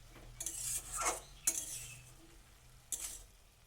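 Leafy greens stirred in a pan, with several sharp clinks of a metal utensil against the pan and soft scraping and rustling between them, over a faint low sizzle and no talking.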